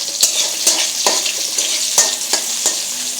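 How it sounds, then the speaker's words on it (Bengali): Onions fry in hot oil for a fish and radish curry, giving a constant hissing sizzle broken by regular, sharp taps of a stirring utensil against the pan, close and without talk. "প্রথমে তেলের মধ্যে পেঁয়াজ দিয়ে দিব।"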